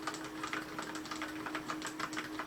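Keys are tapped on a Corsair K68 waterproof mechanical keyboard with red switches, making a quiet, soft, rapid clatter of evenly spaced presses close up.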